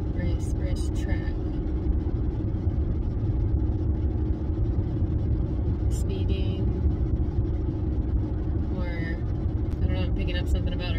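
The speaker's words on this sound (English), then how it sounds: "the car is so loud, you almost can't hear me" Steady engine drone and road rumble fill the cabin of a moving car on a road trip, loud and continuous, with a person talking over the noise.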